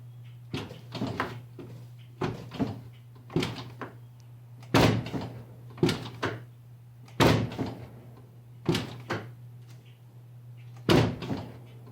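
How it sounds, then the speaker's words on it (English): A car door fitted with a TRD door stabilizer shuts again and again, about ten firm thuds spaced a second or so apart over a steady low hum. "I'm just going to actually go and close the door"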